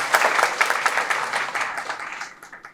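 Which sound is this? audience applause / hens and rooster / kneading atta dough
audience applause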